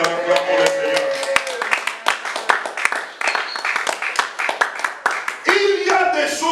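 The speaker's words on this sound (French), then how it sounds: "acclamons le Seigneur, acclamons le Seigneur" A church congregation claps in a steady rhythmic beat while voices sing and speak over it, the hand claps sharp and close throughout.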